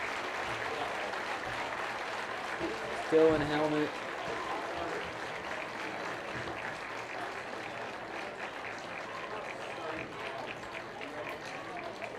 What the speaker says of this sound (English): the crowd gives him a round of applause